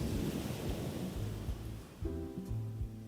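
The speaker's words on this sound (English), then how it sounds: "I love ocean sounds. That's why I have ocean sounds as part of my stream." Ocean waves played as background ambience on a live stream, a continuous rushing surf wash with soft low rumbles, steady and fairly loud, with no voices.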